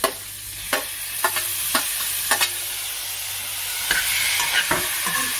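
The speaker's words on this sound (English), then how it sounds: "And stir properly." A spoon scrapes and knocks through lamb curry with potatoes and tomatoes in a pot, giving repeated stirring strokes over a low, constant cooking sizzle.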